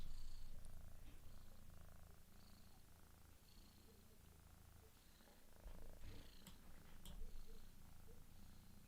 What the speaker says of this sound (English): Wait, the cat wants to go.